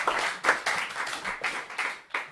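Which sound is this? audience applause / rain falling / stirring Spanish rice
audience applause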